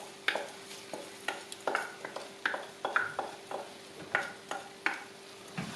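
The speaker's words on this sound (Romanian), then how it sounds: "Amestecăm și mai lăsăm 2 minute, amestecând din când în când." Rice being stirred in a pot for pilaf, a spoon scraping and turning it in repeated irregular strokes over a faint steady sizzle, close and moderately loud.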